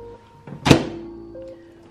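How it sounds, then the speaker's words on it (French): A microwave oven door closes with a single firm thunk, followed by a faint electronic beep and the low steady hum of the appliance in a home kitchen. "je mets tout ça au micro-ondes."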